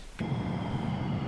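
Airplane landing on an active runway, a steady low engine roar that starts abruptly and holds loud and fairly close for the short stretch, with no talk.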